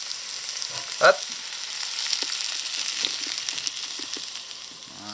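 Salmon fillets fry gently in a pan with barely any oil, giving a steady soft sizzle throughout, with a brief clatter just after the first second and a single short word spoken.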